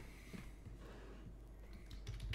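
Typing on a computer keyboard gives soft, irregular clicks and taps close to the microphone, faint against a low background hum, with no voices.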